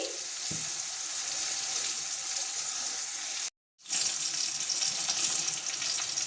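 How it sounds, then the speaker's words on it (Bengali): Bitter gourd pieces fry in a pan with a steady, close broadband sizzle that runs continuously, broken once by a short moment of silence before the hiss resumes. "ওখানে আমি উচ্ছেগুলো ভেজে নিচ্ছি"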